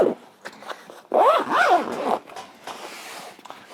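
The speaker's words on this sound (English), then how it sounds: "Let's zip this back up." A zipper on a stuffed Pakt travel bag is pulled shut in a few quick, close strokes, with rising rasping pulls and short pauses between them.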